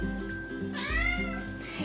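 A pet cat lets out a single clear, drawn-out meow up close, with quieter background sounds around it.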